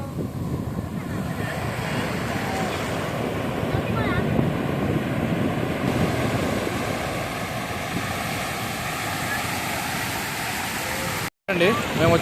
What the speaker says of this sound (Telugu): అలల ఎఫెక్ట్ మొత్తం ఎంత వేగంగా వస్తున్నాయి అంటే మస్తు వేగంగా వస్తున్నాయి అలలు అయితే